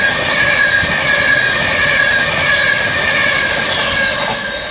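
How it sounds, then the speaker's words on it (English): Virgin Pendolino class 390 electric train passing through Cheadle Hulme station, a loud continuous rushing roar with rail hiss and whine, close and steady with no talk. "And now passing through, we have a Virgin Pendolino from London Euston via Crewe and Wilmslow to Manchester Piccadilly"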